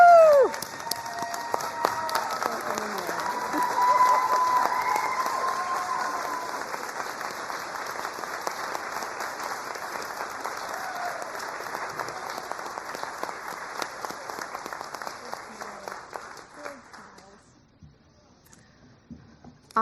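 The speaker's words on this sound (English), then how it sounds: "How about a standing ovation?" Standing ovation at a licensed practical nurse pinning ceremony, with sustained dense clapping from a large audience, swelling early and then gradually thinning out before stopping near the end, with a few cheers at the start.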